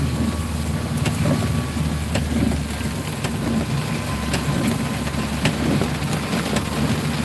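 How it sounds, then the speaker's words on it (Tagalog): Heavy rain pours steadily in General Trias, Cavite, a dense, even roar with faint scattered ticks and no voices. "Grabe ulan dito sa may General Trias, Cavite."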